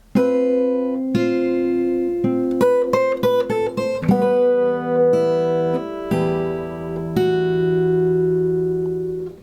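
Fingerpicked guitar plays a short phrase of plucked single notes and ringing chords, clear and close, with notes sustaining at the end.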